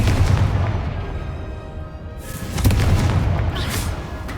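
A Confringo spell explosion in the Hogwarts Legacy video game, a loud, deep booming blast with rumbling low end, followed by a second heavy impact partway through, with no voices.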